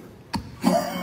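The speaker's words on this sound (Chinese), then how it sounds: "这两天赶上咳嗽了" A man coughs close by, with one short sharp burst and then a rougher, throaty cough just after.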